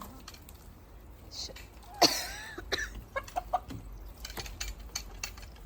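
A rooster gives a short, hoarse crow, followed by a few scattered clucks against a quiet outdoor background.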